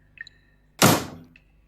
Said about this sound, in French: l'homme referma derrière eux la porte à clé